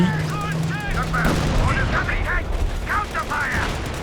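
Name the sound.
machine gun fire in video game Company of Heroes 2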